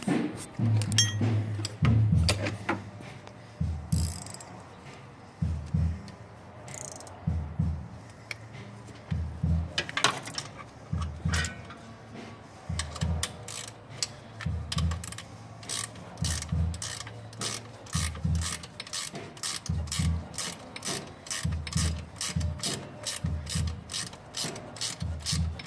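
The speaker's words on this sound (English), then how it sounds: "Now it's a matter of just tightening these bolts up." A ratchet wrench tightens 13 mm bolts during an onboard air compressor install, giving repeated bursts of close, crisp pawl clicking in a steady back-and-forth rhythm with short pauses between strokes.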